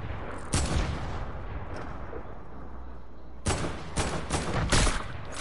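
Gunfire in a video game, a single sharp shot early on, then a quick cluster of several loud cracks near the end over a steady background rumble, with no talk.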